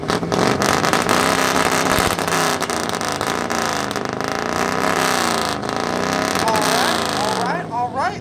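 At an exhaust competition of muscle cars, trucks and JDM cars, a car exhaust roars loud and close in sustained, wavering revs, with crowd voices mixed in and cheering toward the end.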